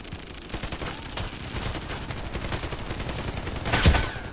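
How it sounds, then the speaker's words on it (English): Gunfire in the online shooter Contract Wars, a continuous rattle of automatic shots and scattered distant reports, building to one louder, closer blast near the end, with no talking. "Where was that shot coming from?"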